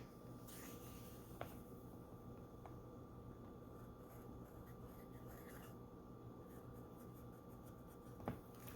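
A Benu Skull and Roses fountain pen with a fine nib scratches softly across paper, a faint continuous rasp of writing strokes close by, with a couple of tiny taps.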